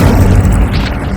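Incendio fire spell in Hogwarts Legacy, a loud, dense rumbling blast of flame heard up close, sustained and booming throughout its brief second.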